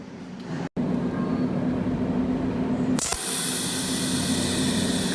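A cold welding machine fusing brass spot welds over a broken copper hole, a steady low electrical buzz and hiss, briefly cut off, then resuming with a sharper, brighter hiss as the next weld shot fires.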